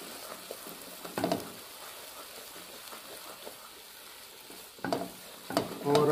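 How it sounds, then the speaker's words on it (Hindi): Eggs fry in desi ghee for pumpkin halwa, a steady soft sizzle with a few louder scraping stirs of the pan, close and with no talk. "जब ये घी छोड़ेगा तो आपने अंडे डालने हैं इसमें, ऐसे नहीं डालना और इसको हिलाते जाना है।"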